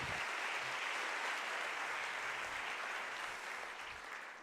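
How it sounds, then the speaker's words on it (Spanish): Warm, sustained audience applause welcomes keynote speaker Álvaro González Alorda to the stage at a business-innovation talk in Medellín, a dense steady clapping that fades slightly toward the end. "recibamos con un caluroso aplauso a Álvaro González Alorda"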